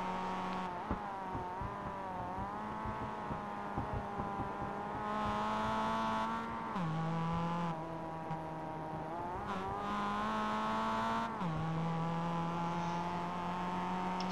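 A Mazda Miata race car on the Summit Point circuit in West Virginia gives a steady, buzzing engine drone that rises and falls with gear changes and throttle, loud and close throughout with no talking.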